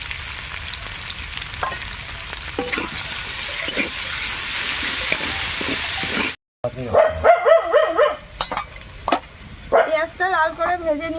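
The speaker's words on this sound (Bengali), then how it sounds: "অনেকটা পেঁয়াজ দিয়ে দিচ্ছি তেলটার মধ্যে" Onions sizzle loudly in hot oil for chicken curry, a dense steady hiss with a few stirring scrapes. After a short gap, different sounds follow: barking and other noises with tonal, warbling patterns.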